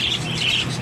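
A pet bird chirps in hot weather, giving short, close, repeated high tweets with no voices.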